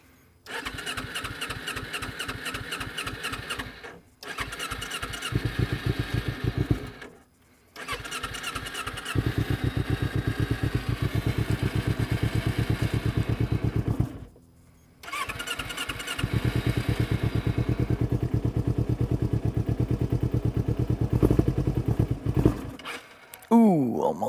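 A motorcycle engine is cranked repeatedly, sputtering into uneven running between several abrupt stops, then catches and settles into a steady close idle.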